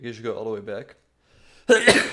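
A single sharp sneeze bursts out loudly near the end, after a person talks and a short pause, during an online chess game.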